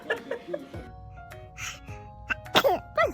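A baby sneezes a few quick times at close range, soft sharp bursts with small breathy whimpers and adult murmurs around them.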